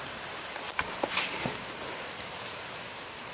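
Rain falling outside a garage during an oil change on a 1987 Porsche 911, a faint, steady hiss with a few soft drips and patters.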